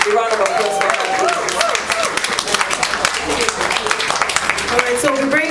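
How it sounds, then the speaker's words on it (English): Audience applause at an award breakfast honoring women, scattered clapping from the room mixed with voices and background music. "A round of applause for her."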